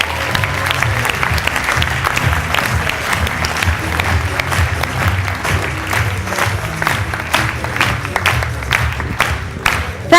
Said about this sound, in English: Please give her a huge round of applause for Miss Carly Crutchfield